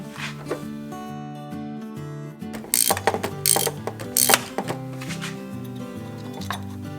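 Ratchet tool clicking on the Allen screw of a timing belt tensioner on a 1989 Ford Taurus SHO, rapid close ratcheting bursts with a few sharper metallic knocks in the middle.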